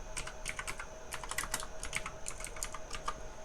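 Quick, irregular clicks of fingers typing on a computer keyboard, close and fairly quiet, keys pattering in short bursts with no voices.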